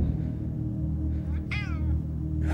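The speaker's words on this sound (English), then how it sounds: "A stray cat." A cat meows once, a short rising-and-falling call that stands out clearly against a steady low background hum.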